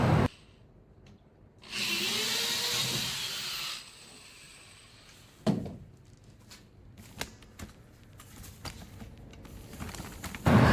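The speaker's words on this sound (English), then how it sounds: "Come in and drill pilot holes now." A power drill bores pilot holes for cleats on the deck of a small wooden cruising dinghy, one short whirring burst followed by scattered knocks, clicks and handling noises in a quiet workshop.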